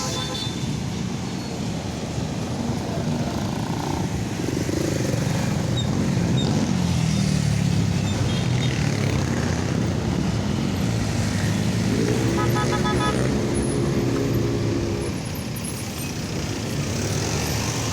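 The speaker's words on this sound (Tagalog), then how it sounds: "May traffic po tayo." Steady road traffic rumbles along a busy street near SM South Mall in Las Piñas, Philippines, with passing engines, a horn-like tone and a continuous loud roar throughout.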